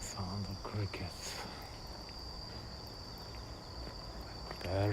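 Steady high chirping of crickets in roadside grass on a Japanese night street, a constant trill with soft footsteps and a few scuffing sounds near the start and end.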